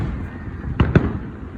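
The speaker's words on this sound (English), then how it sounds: "it just became a cool fireworks show" Two sharp firework bursts crack in quick succession during a neighborhood fireworks show, loud and near above a low rumbling background.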